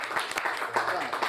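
An audience at a Punjabi poetry mushaira bursts into a brief patter of hand clapping, mixed with a speaker's voice over it.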